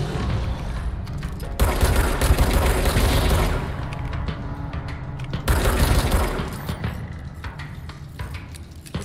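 Sustained heavy gunfire in the video game Control, dense overlapping bursts and booms filling the whole stretch with brief lulls between volleys, loud and continuous.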